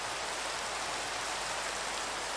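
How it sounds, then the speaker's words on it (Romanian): A constant, even hiss of heavy rainfall in Minecraft, unbroken and close, with no voices. "Ploaie"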